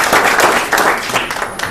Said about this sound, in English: big round of applause just for that